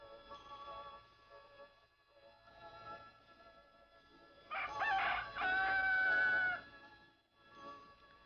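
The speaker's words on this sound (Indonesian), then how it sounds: "Kokok ayam hutan mulai terdengar, tanda hari mulai pagi" A jungle fowl crows loudly in a long, drawn-out call at dawn, with fainter crowing and clucking before and after.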